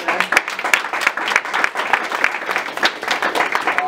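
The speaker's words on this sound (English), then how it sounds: "We all have a big round of applause because he provided lunch for us today." Applause from a group at an office meeting, a steady round of clapping that carries on for several seconds, fairly close and filling the room, with no one speaking over it.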